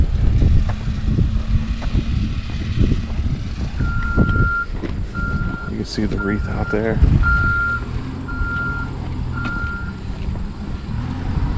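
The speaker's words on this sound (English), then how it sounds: "And the humming of this truck." A truck hums at an outdoor memorial while its reversing alarm beeps in a steady repeating pattern, with wind buffeting the microphone and a person talking over the low engine drone.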